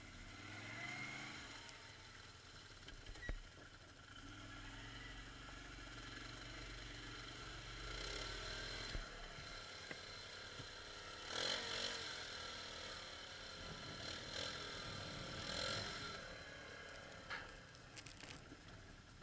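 Motorcycle engine revving and labouring while riding through a ravine, a steady mid-pitched drone with throttle swells and a few knocks, moderately distant and fairly quiet throughout.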